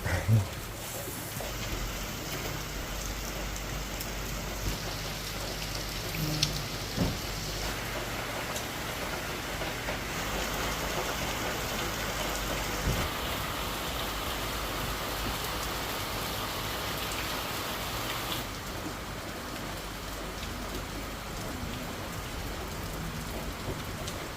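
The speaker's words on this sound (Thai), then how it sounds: "บรรยากาศสายฝนที่โปรยปลาย" Rain falls steadily on a river raft stay at Erawan, Kanchanaburi, as a dense, even hiss with constant patter, continuous and unbroken throughout, with an occasional faint knock underneath.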